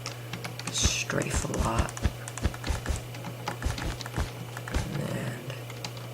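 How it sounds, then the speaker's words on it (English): Loud, clacky keystrokes from an old computer keyboard in quick irregular bursts, close up, with a person speaking briefly and a low steady hum underneath. "Sorry if my keyboard is really loud, it's just an old thing"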